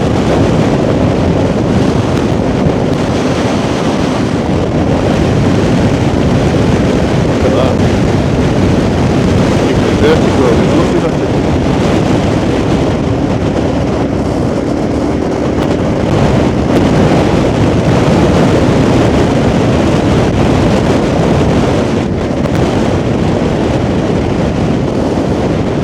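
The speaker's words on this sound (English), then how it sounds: "that wind's dropped" Strong wind buffets the microphone on a boat near the Barton-upon-Humber coast, a loud continuous roaring rumble with gusty swells and water noise underneath, steady for the whole stretch.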